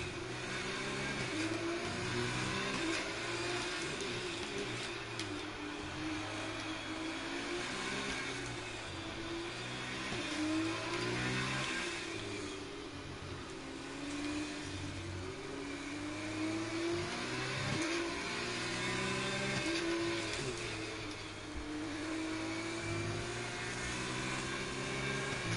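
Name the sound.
F2 race car engine in F2 2020 video game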